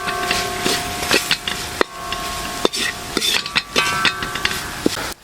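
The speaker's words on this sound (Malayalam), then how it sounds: "ഇതെല്ലാം കൂടെ ചേർത്ത് മിക്സ് ചെയ്തെടുക്കാം നമുക്ക്" A spoon scrapes and knocks against a pan while prawn pickle masala for Kerala-style chemmeen achar is stirred, irregular close taps and rubbing strokes over a faint steady hum, no talking.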